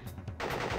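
Gunfire from the Pinstripe boss fight in the Crash Bandicoot video game, a short loud burst that swells into sustained rapid shooting.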